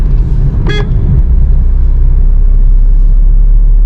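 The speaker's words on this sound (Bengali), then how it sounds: "আরে এত হন আর কী আছে ভাই" A single short car horn honk sounds on a highway, loud and close, over the constant low rumble of a moving vehicle and road noise.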